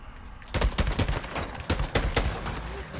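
Gunfire in the Days Gone video game comes as a series of sharp shots, some in quick bursts, over a constant background of game ambience.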